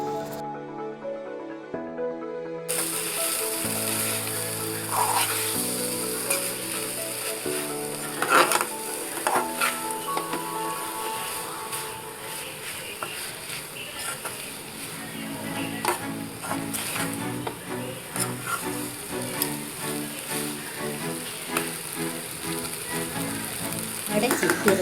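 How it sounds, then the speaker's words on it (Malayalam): Fried mussels stirred into masala in a pan for chippi roast, a continuous close sizzle with scraping and clinks of the spoon against the pan, under background music. "നമ്മൾ ഫ്രൈ ചെയ്ത ചിപ്പി അതിലോട്ട് ഇട്ട് പുരട്ടിയെടുക്കാം. 2 മിനിറ്റ് നന്നായിട്ട് ഇളക്കി കൊടുക്കാം."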